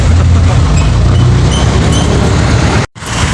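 Loud, steady rumble of an LRT light rail train in motion, dense low-end roar with rattling that drops out abruptly near the end before resuming.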